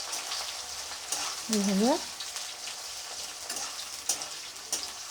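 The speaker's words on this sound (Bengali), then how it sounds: "দেখো, তেলটা অলরেডি কিন্তু গরম হয়ে গেছে। আমি এই দুটোই দিয়ে দিচ্ছি তেলের ওপরে, দিয়ে আমি নাড়িয়ে নিচ্ছি" Crushed garlic and onion sizzle steadily in hot oil as they are stirred, with a soft, continuous crackle and occasional scraping clicks. A voice speaks briefly over the frying.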